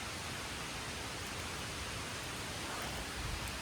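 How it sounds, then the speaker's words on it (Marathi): Steady broadband rush of water near the stone-stepped trail to Bhimashankar, a continuous even roar without breaks and no voices. "काय आवाज किती येतो ना पाण्याचा"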